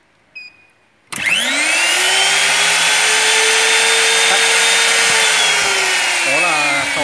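A minicam multi-purpose C-series drilling machine starts up after a short beep and runs with a steady loud whine and hum, holding evenly for several seconds with a slight change near the end.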